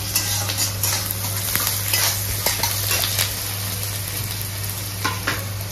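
Chopped onion frying in a pan for a Bengali rohu fish egg pakoda curry gives a steady, close sizzle broken by the scrape and clink of stirring, with no talking.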